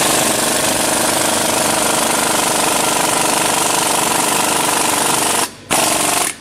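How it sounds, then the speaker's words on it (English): An ESCO portable pneumatic bead breaker hammers away at a tire bead on a rim, a loud, continuous rapid-fire clatter that pauses briefly near the end, then resumes and stops. "See how that drives, really wedges that bead breaker in between the rim flange and the bead."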